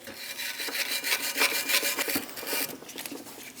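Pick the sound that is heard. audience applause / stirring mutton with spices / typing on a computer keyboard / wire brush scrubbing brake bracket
wire brush scrubbing brake bracket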